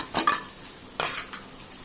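A spoon scrapes and clinks in a cooking pan as yogurt paste goes in, a few short metallic scrapes close up with a faint sizzle underneath and no talking.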